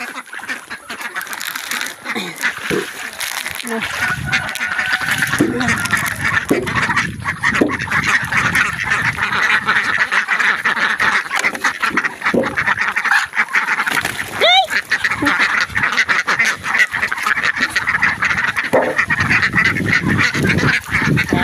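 A crowd of farm ducks being fed quacks loudly and constantly up close, a busy overlapping clamor that barely lets up.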